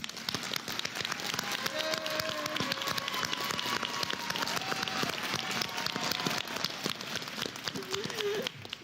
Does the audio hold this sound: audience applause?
yes